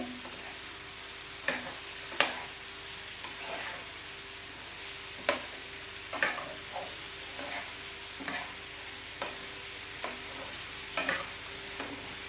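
Potato chips cook in a pan for a Punjabi garlic aloo chips sabzi, giving a steady soft sizzle broken by several sharp clinks and scrapes of a stirring spoon against the pan.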